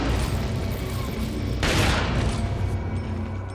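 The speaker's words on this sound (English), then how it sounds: "I've got a shotgun." A shotgun blast booms loudly in the Resident Evil 4 (2005) video game, a single sharp burst cutting through steady game noise before fading.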